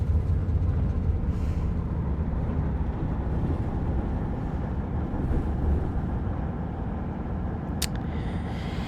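Steady low rumble of a train running along the tracks, continuous and fairly loud with no voices, a brief high squeal near the end.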